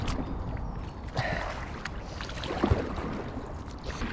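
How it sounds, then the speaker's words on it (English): A canoe paddled one-handed through water near a thickly wooded island gives soft splashes and swishes, a few distinct strokes over a quiet background of gentle water movement. "Paddling with one hand when you have to hold a GoPro in another one, but Christian do all of the job."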